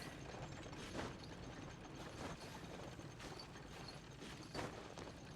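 An elevator mechanism runs with a steady low mechanical rumble, broken by soft rhythmic clunks roughly every couple of seconds, with no voices.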